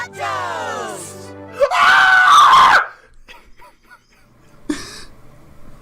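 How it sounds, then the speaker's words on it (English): A shrill, strained cartoon creature scream from the Pokémon Zapdos, rising into a loud sustained wail of about a second, followed by quieter scattered sounds and a brief later cry. "the Zapdos scream"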